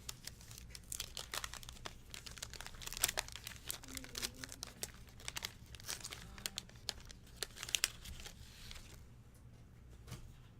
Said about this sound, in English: Let's give this pack an open.